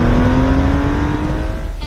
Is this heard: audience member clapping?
no